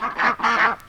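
Backyard ducks raised from hatchery ducklings, kept in a pen with chickens and Muscovy ducks, give three loud, close, nasal honks in quick succession.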